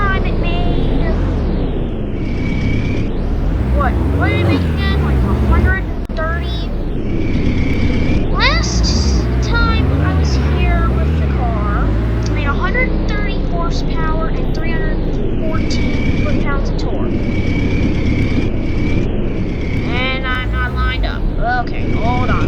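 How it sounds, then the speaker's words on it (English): A car engine in a Roblox game revs repeatedly on a dyno, its pitch sweeping up and down in loud synthetic surges while someone talks over it throughout. "So we're gonna head down to the dyno. Head back down to the dyno and put down some power."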